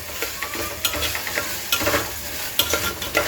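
Broken wheat roasts in ghee on a low flame, with a dense sizzle and repeated scraping strokes of a spoon stirring the grains in the pan, close and continuous.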